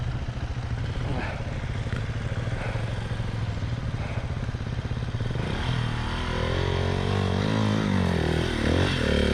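A Husqvarna 701 or KTM 690 offroad motorcycle labours up a steep climb, its engine droning continuously and loud, then rising in pitch as the throttle opens, with clattering and scraping underneath.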